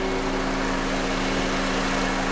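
A Honda Civic engine idles steadily during an AC system recharge, a constant low hum with a faint whine and no voices.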